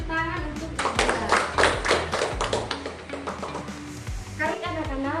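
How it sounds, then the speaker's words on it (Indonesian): A group of children in a classroom clapping together in a lively burst of applause, loud and close, with some voices mixed in. "Silakan tepuk tangan untuk Dila."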